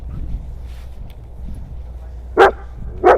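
A dog gives two short, sharp barks close by, spaced under a second apart, near the end of a quiet stretch with a low background hum and soft movement.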